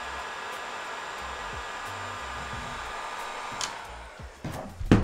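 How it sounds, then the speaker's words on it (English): A heat gun blows steadily on an Anet A8 3D printer hot end, a constant moderate whooshing hum that wavers and is punctuated by a few brief clicks near the end. "I'm going to take a heat gun and gonna heat up this hot end here"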